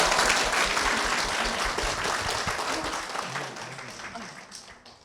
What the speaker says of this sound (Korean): 한일순 권사님 박수로 모시겠습니다.